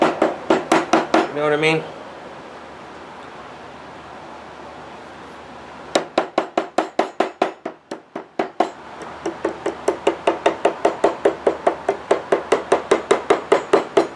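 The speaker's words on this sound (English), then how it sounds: "Nice sharp chisel." Sharp chisel tapped repeatedly against wood while flattening a patch on a chipped guitar fretboard, giving close, crisp knocks in quick runs with pauses between bursts and a brief spoken remark early on.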